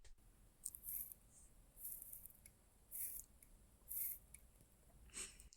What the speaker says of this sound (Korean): 와인딩 소리는 이렇습니다.